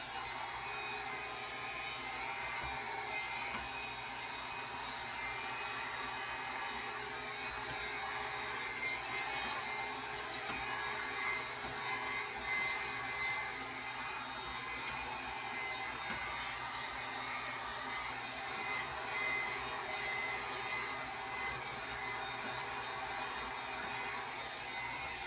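A hair dryer runs steadily on a heat-friendly synthetic wig, a continuous faint airy whoosh with a soft motor hum and no breaks.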